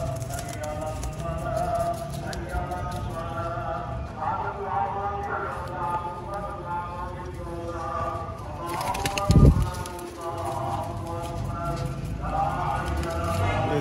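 Pigeons coo and shuffle at a loft of Sialkoti pigeons as a female Bateri pigeon arrives, with a brief flutter of wings near the middle, while someone talks over the birds throughout.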